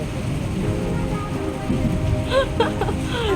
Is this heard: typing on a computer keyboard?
no